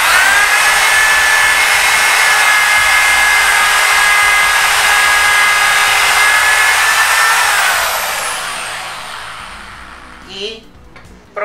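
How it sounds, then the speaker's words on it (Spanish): A power drill bores a dowel hole in a board through a JointCrafter doweling jig, a loud, steady whine for about eight seconds before spinning down and fading, followed by a few faint clicks and handling knocks. "coloco el tarugo en la ranura de 5/16, empujo bien y hago el segundo taladro"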